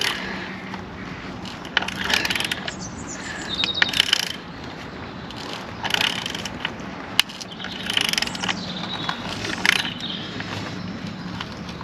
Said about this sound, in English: if your impact driver does the job,